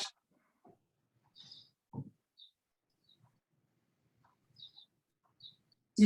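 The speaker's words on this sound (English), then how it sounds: "I hear birds" Faint, scattered bird chirps sound at a distance: short high calls come one at a time with long quiet gaps, and a few soft low knocks and rustles sit between them.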